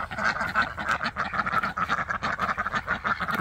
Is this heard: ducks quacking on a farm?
yes